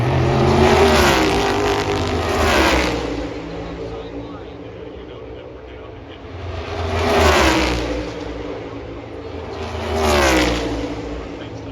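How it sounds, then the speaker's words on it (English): A pack of race cars roaring past at Talladega in a Cup race, engines swelling and fading in repeated loud waves as the cars sweep by in close formation, with crowd and commentary noise under them. "All those cars now all clumped up side by side, 2 by 2"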